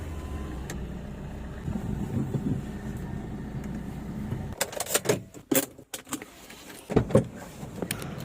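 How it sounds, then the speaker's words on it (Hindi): A car is parked in a hospital parking lot: a low idling engine rumble, then clunks, clicks and rustles as it settles, moderately loud with no talking. "और ये लग चुकी है गाड़ी हमारी पार्किंग में।"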